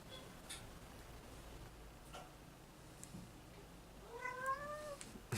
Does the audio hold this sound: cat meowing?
yes